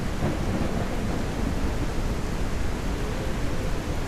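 A big thunderstorm fills the air with continuous heavy rain and deep, rolling thunder, a dense and even roar that holds steady throughout with no one speaking.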